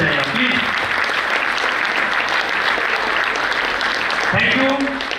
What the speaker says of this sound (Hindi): एक बार जोरदार ताली आप अपने लिए जरूर बजाइए प्लीज